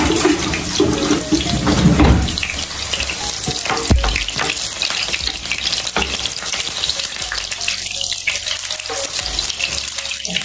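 Onion sizzles in hot oil in a pan. The frying hiss is steady and loud, with occasional stirring scrapes, and there is no talk.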